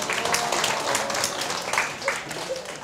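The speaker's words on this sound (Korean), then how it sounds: "이 친구한테 박수 한번 줘야 될 것 같아요." A lecture audience gives a student a short round of applause, a brisk flurry of clapping that tapers off within a few seconds.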